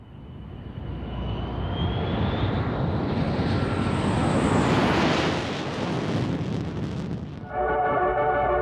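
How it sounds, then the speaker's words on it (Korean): A passenger airplane on the flight home roars with steady, loud engine noise that swells and sustains throughout, then a brief high whine and tonal hum come in near the end. "전종윤은 뜻한 바가 있어 그 일본 라면을 넉넉하게 사가지고 귀국행 비행기에 올랐다"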